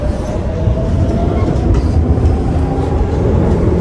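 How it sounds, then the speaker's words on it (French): A Madrid metro train runs on its rails with a loud, close, steady rumble and rattle inside the carriage, as faint clickety-clack sounds and wheel noise carry through. "Regardez, on est dans le métro."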